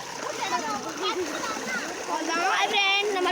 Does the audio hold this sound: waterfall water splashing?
yes